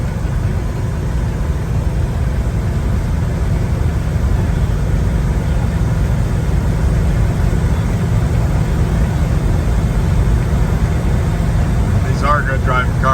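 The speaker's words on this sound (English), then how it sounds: "Got just a nice mellow sound to it." A 1965 Chevrolet El Camino pickup being driven, its engine giving a low, mellow, steady rumble heard from inside the cab, continuous without breaks and with a brief higher rattle near the end.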